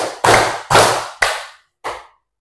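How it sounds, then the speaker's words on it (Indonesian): Hand claps sound as clues in a guessing game: four sharp, loud claps close by with short ringing tails, the last one after a slightly longer pause. "Clue-nya adalah tepuk tangan"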